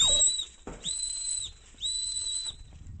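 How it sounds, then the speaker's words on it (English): A shrill whistle blown outdoors to signal that dogs are coming out, sounding in three sharp, loud blasts separated by short gaps. "I use a whistle to kind of let the rabbits know that the dogs are coming."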